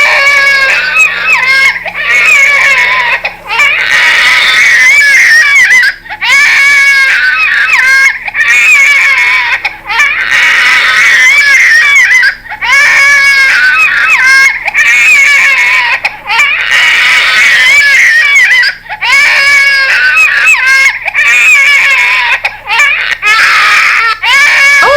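A RealCare Gen 6 hybrid infant simulator doll gives loud electronic baby cries in repeated wailing bursts with short gaps between them, close and alone.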